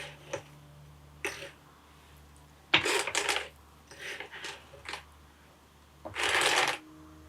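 A hand-cranked drum carder combs and loosens wool fleece between its toothed drums, giving scattered bursts of dry, bristly scraping and rasping with short pauses between passes and a low steady hum underneath.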